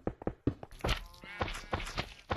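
A wooden block placed in Minecraft with the SkyBees mod gives a few short, dull thunks, close and moderately loud, set amid other game clicks and knocks.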